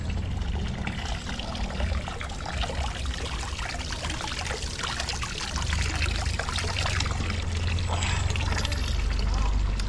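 Water pours steadily from a public street fountain in Switzerland, a continuous close splashing stream heard outdoors without talk.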